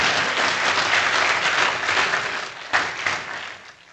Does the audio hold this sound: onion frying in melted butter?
no